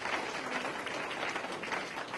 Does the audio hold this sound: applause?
yes